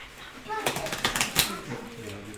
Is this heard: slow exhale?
no